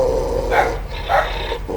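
A dog growls up close, and two short, rough barks break through the low rumbling at regular intervals.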